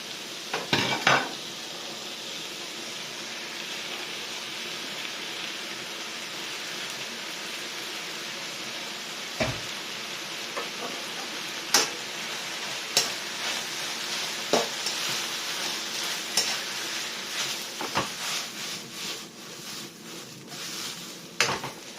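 Noodles stir-fry in a wok over a continuous hiss of sizzling, with repeated scraping and clanking as a utensil tosses them against the metal, several sharp knocks standing out in a busy, close kitchen scene.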